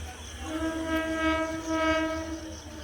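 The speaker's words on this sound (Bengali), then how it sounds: "এটা হচ্ছে হাওড়া আমতা লোকাল। ট্রেন আসছে" The Howrah–Amta local train draws near with its horn sounding a long sustained, tonal blast over a steady rolling rumble of the approaching carriages.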